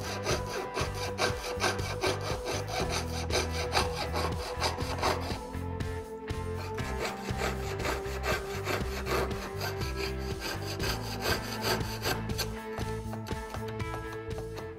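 Jeweler's saw cutting out a heart-shaped metal pendant, a rapid rhythmic rasping of back-and-forth strokes, close and continuous with brief pauses.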